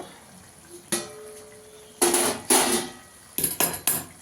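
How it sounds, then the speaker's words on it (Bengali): A pot lid clanks and a spoon scrapes and knocks against a pan of cooking cabbage in several sharp metallic bursts, separated by quiet gaps, close by and with no talking. "ঢাকনাটা তুলে একটু নাড়া দিয়ে দেবো"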